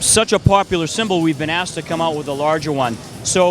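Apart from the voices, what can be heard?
None of the usual background noises is heard.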